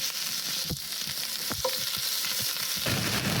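Two cloves of garlic and two teaspoons of ginger fry in hot oil in a wok for a shrimp pad thai, a steady close sizzle broken by a few scraping stirs of a spatula.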